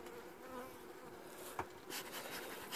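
Honey bees buzzing around an open hive during a spring inspection, a dense continuous drone close by with individual bees flying past the microphone.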